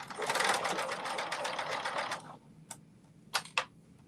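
A sewing machine stitches elastic at a slow pace in a continuous run of rapid needle strokes, then stops, followed by a few short sharp clicks and taps.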